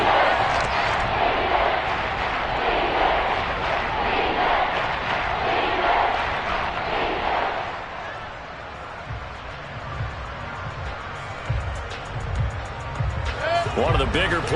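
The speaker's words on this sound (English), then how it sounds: "the crowd getting into it as we come up on a big 3rd down" A stadium crowd in a football video game roars loudly and steadily, then drops to a lower murmur before rising again, with commentary voices talking over it.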